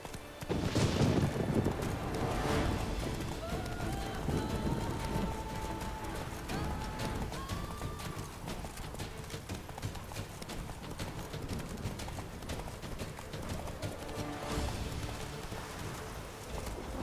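A horse in the video game The Witcher 3 gallops with steady, rapid hoofbeats that run continuously from start to finish, mixed with wind and outdoor game ambience.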